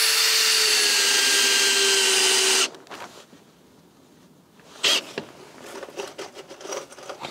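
A power tool drives bolts into wooden roof planks, a loud steady whine for a little under three seconds that then cuts off, followed by quieter clatter and handling noises with one sharp knock near the end.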